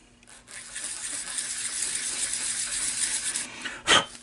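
Pen blank ends being sanded flat on 400 grit sandpaper laid on a lathe bed, heard as a continuous close gritty rubbing for several seconds, ending with a brief sharp clack.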